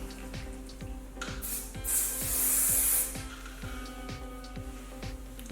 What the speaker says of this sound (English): I'm going to use a spray wax.